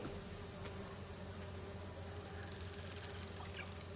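Bees buzz in the Spider-Man 2 video game, a faint, continuous droning hum with a constant texture and no voices.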